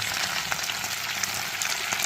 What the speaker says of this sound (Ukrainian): Треба, щоб все це смажили на повільному вогні.